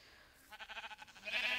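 A sheep bleats in the video game Minecraft: one wavering, pulsing bleat with a quick tremolo that swells toward the end, clear and alone at moderate loudness.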